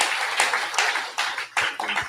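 Audience in an auditorium applauding at a high-level commission report launch in Nairobi, a dense broadband wash of clapping with bursts of individual claps rising and falling, no talk over it.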